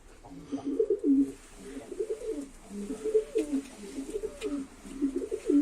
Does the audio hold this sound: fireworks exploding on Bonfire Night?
no